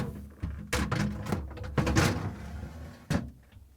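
Crisper drawer being slid into a Samsung refrigerator, close plastic bumps and a sliding scrape ending in a firm thunk, with no voices.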